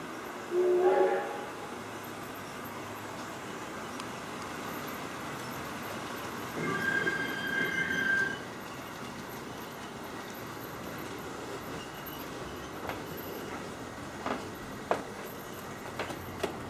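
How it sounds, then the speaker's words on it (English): A model A3 Flying Scotsman train departs on a layout, its wheels rolling with a steady rumble and occasional clicks and squeals over the track, moderately quiet and without speech. "The A3 Flying Scotsman and its train are now ready to depart, so please clear the platforms."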